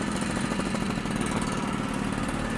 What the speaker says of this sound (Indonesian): Vespa 2 ini sangat santai di tanjakan brother.